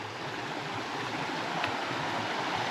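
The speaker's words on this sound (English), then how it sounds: "Got some runoff here coming from this side slope, some springs, letting some water down." Spring runoff trickles and rushes down a side slope beside a narrow trail passage during a storm, a steady, close wash of water running throughout with no voices.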